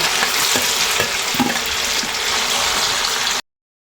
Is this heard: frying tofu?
yes